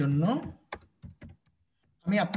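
Several crisp keystrokes on a computer keyboard come in a short irregular burst between stretches of speech.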